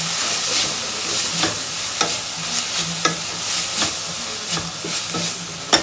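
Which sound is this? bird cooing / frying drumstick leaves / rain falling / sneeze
frying drumstick leaves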